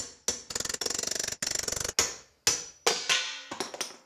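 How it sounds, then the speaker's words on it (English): Rapid metallic hammer strikes on a chisel ring out in bursts of quick taps, followed by several single heavier blows, removing a bearing race from a hub, close and fairly loud. "when you hammer on it, it'll actually push the race off as you chisel"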